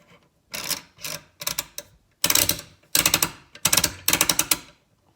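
A Matador Arms muzzle brake being turned onto the threads of a .308 rifle barrel, producing close, dry metallic clicking and ratcheting in several short bursts separated by brief pauses.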